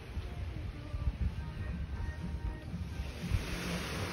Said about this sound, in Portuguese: Olha como tá esse mar hoje.